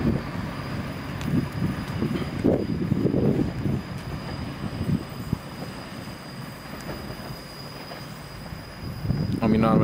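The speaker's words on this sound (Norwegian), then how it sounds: "Og kører samtidig med Nordjysk Jernbanetog" A Nordjyske Jernbaner Lint train runs past with a steady, fairly loud rumble and rushing noise, rising and falling with wheel and engine sounds throughout.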